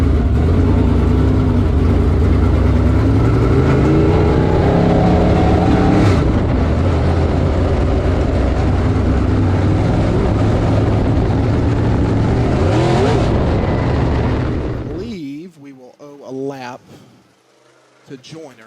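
A race car slams hard into the wall in turn 1 at Swainsboro Raceway, then spins, under a dense, loud roar of racing engines with a sharp burst near the middle. An announcer talks excitedly over it before the roar cuts off near the end.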